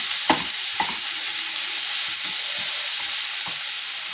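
Crushed lentil dumplings fry in a pan with a continuous close sizzle, with a couple of spatula knocks early on and occasional scraping as they are stirred, and no talk.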